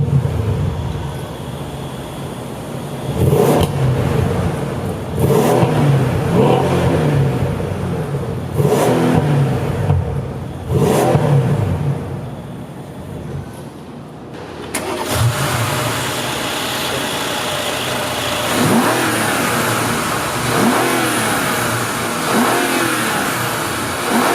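A Mercedes-AMG S63 4Matic with a twin-turbo 5.5-liter V8 starts up and revs loudly, its exhaust surging in repeated rises and falls before settling into a steady idle, with no talking.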